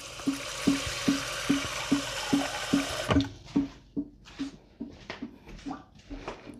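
Water splashes and pours into a canner pot for water-bath canning, a steady wash of liquid with regular soft ticks for the first few seconds, then scattered, louder splashes and trickles nearby.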